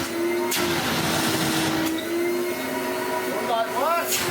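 Goblin Omni 1000 vacuum cleaner runs loud and close with a steady motor whine and rushing airflow, while a person talks briefly over it.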